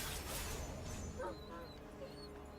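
A dog enemy in the video game Wuchang barks and yips in short, loud bursts over a dense, continuous bed of game sound effects and music.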